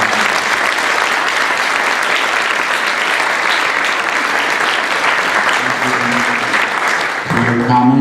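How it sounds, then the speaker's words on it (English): A room at a township board of education meeting fills with loud, steady applause that runs unbroken, then dips briefly near the end before a voice begins to speak. "Let's have one more round of applause."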